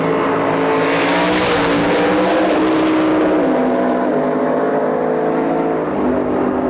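A limited 235 F-body Camaro and a Monte Carlo drag race side by side at a Lights Out 16 qualifying round, engines roaring loud and steady for the whole pass with rising and shifting harmonic tones.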